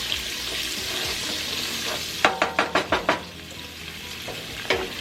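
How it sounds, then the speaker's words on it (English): Steady soft sizzle of onions frying in grease as flour is stirred in, broken by a quick run of six sharp clicks of a utensil against the pan, with another knock near the end. "Add our flour into our onion and grease"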